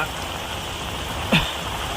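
Steady rain pours down at Vikas Naka in Dombivli as the streets flood, making a constant close hiss, broken once by a brief dull knock.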